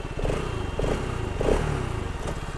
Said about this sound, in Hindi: एग्जॉस्ट नोट आप लोग सुन लो,